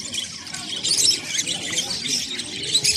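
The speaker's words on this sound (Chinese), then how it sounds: "这家是卖的鹦鹉。" Parrots of many species squawk and chirp in a busy bird-market stall, a dense, continuous chatter of high calls with no talk over it.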